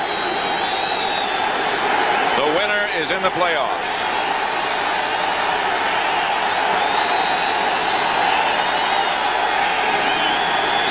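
A steady roar from a football stadium crowd at a 1992 Eagles vs Washington NFL game fills the background throughout, with a broadcast commentator's voice talking over it.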